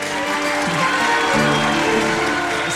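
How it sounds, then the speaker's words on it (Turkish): Applause from a studio audience at a surprise marriage proposal on a Turkish TV show, a steady, dense wash of clapping lasting throughout with faint crowd noise and a few voices mixed in. "Çok büyük alkış."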